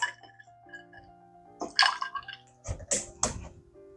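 Cranberry juice is poured into vodka in a glass in two short, quiet splashing pours, with faint clinks and tonal ringing in the pauses and no talk.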